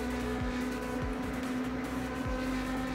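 A Ferrari race car engine in a racing video game holds a loud, steady high drone for the whole stretch, with no talk over it.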